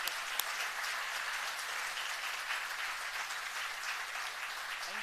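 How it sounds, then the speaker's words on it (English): An audience at a staff awards ceremony gives sustained applause, a continuous, even wash of many hands clapping heard from a distance over a low background hum. "that requires a huge round of applause for acknowledging our physical plant."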